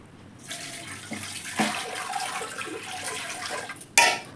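Water pours into a Shantha wet grinder to rinse it, a steady splashing rush that lasts several seconds, followed by a sharp clatter near the end.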